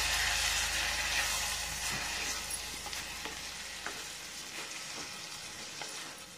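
Cooked wheat being stirred into roasted poppy seeds in a pan, a soft hissing sizzle that fades gradually, with light scraping strokes of a spoon throughout.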